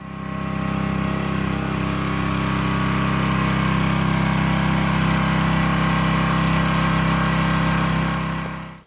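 Small engine, just fitted with a new spark plug, running at a steady idle; a loud, even, continuous hum with no voices over it from start to finish.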